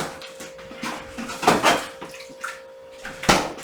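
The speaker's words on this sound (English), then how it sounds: "we're going to pour some more water in here" Water poured into a container in a home kitchen while making bread, splashing bursts in a few separate pours with clinks between, close and clear with no talk.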